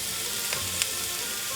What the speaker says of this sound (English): So now what I'm doing is I'm putting the sausages face down on the side that I cut